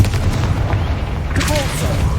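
A Confringo blasting spell goes off in Hogwarts Legacy, a deep booming explosion with a rumbling tail that carries through the whole short stretch.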